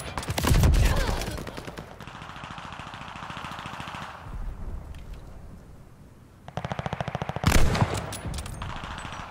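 In a video game, rifle fire comes in rapid automatic bursts. Several loud volleys are separated by short pauses, with a quieter stretch between them, and no voices are heard.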